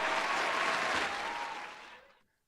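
A cheer-and-applause sound effect plays on a football podcast: a burst of crowd clapping heard alone, holding steady before fading away to silence near the end.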